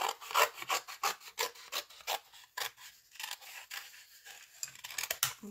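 Scissors cut through a sheet of watercolor paper in a quick series of close, crisp rasping snips, about a dozen in rhythmic succession, with no talking.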